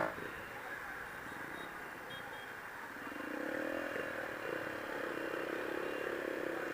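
Motorcycle riding through traffic in Vietnam: a continuous engine drone and road rumble that grows slightly louder midway, with the tone of a passing vehicle rising and falling.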